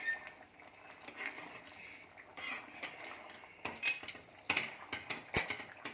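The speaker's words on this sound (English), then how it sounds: "We are going to close the lid." A lid is set onto a pot of boiling rajma (kidney bean curry) on the stove, giving a few metallic clanks and clatters that end in one sharp clink, with quieter rattling before.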